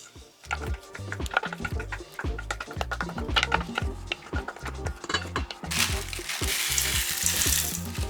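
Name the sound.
mixing pumpkin scone dough in a bowl with wooden spoon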